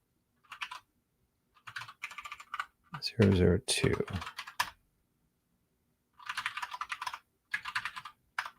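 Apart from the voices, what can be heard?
typing on a computer keyboard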